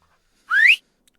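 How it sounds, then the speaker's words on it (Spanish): A single sharp, rising whistle cuts through otherwise near silence, lasting about a third of a second and loud and close. "un silbido agudo corta el aire"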